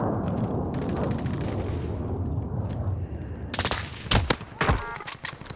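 Sniper gunfire in a video game, with a low rumble of gameplay giving way to several loud, sharp shots close by, then faint rattling echoes and no speech.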